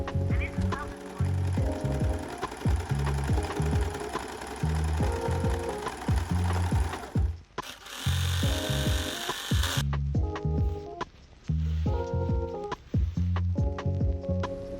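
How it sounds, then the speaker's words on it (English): A sewing machine lock-stitches the side seam of a cropped blouse bodice in repeated rapid mechanical bursts with short pauses between runs, and a brief hissing steam-like noise in the middle; no one speaks. "For the main bodice, lock stitch the side."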